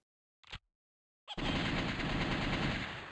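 Rapid automatic gunfire shooting zombies in The House of the Dead arcade game on PC: a brief burst, a pause, then a loud continuous volley that runs to the end.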